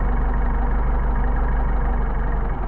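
An engine fitted with Solex 44PHH carburettors idles in a steady, low, throbbing rumble, close and continuous with no voices.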